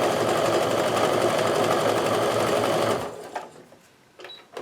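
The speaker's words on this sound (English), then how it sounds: "now I'm going to go ahead and sew the rest of the way down that row" A sewing machine stitches a quilt block row in a fast, loud, continuous mechanical whir for about three seconds, then stops, leaving faint handling clicks.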